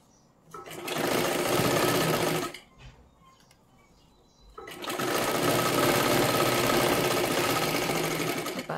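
An electric sewing machine stitching blouse fabric together with lining cloth runs in two steady, loud, close bursts with a short quieter pause between them.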